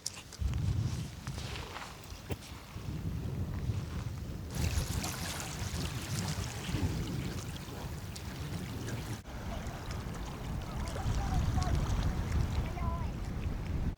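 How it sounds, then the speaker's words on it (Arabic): Strong wind roars and buffets on a beach in shifting gusts, with rustling and thumps nearby and no clear voices over the blustery noise. "اسمع صوت الهواء قد قوي هنا"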